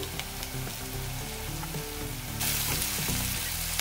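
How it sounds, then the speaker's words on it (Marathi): Onion fries with ginger-garlic paste in a pan, a dense continuous sizzle with faint stirring ticks that grows louder partway through, no voices. "अद्रक आणि लसूणची पेस्ट टाकून घेऊया।"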